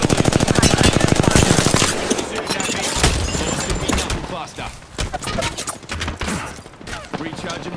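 Rapid machine-gun fire in the sci-fi shooter game Fuse, dense fast bursts up front giving way to scattered, irregular shots and impacts, loud and close throughout.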